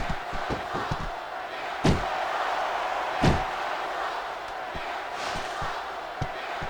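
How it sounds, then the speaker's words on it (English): A pumped-up arena crowd roars and cheers steadily throughout a WWE SmackDown vs. RAW 2006 tag match between the Basham Brothers and Chris Masters with Heidenreich, with loud slams punctuating the din. "I can't remember the last time I seen a crowd so pumped up"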